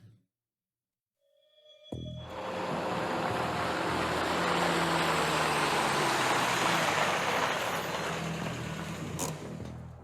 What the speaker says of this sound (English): There goes the truck.